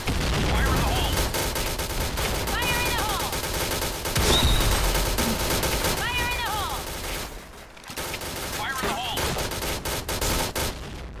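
Shotgun gunfire from a pump-action shotgun on a shooting outing, loud close blasts and rapid bursts of shots with shouting voices between them.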